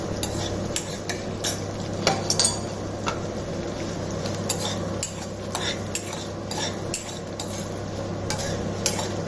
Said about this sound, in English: காஞ்ச மிளகாயை வறுபட்டுட்டு இருக்கு. You need to saute this for some time.